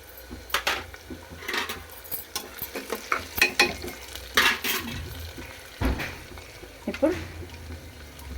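Curry leaves go into hot oil in a pan for chayote curry, sizzling under repeated scraping and clanking of a spoon against metal, close and busy, with a voice speaking briefly.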